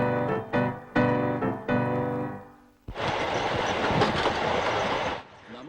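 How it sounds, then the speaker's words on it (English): A railway vehicle running on rails, first several rhythmic clunks of wheels passing over joints, then a dense, loud rumbling roar of the train rolling by nearby for a couple of seconds before easing off. "Railway vehicle runs on smooth rail."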